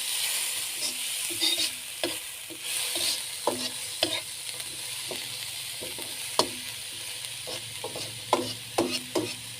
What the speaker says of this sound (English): Saute this on low heat.